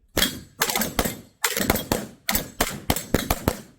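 Pistol shots fired on a shooting drill, sharp close cracks in short bursts of two to three with brief pauses between strings, about a dozen shots in all.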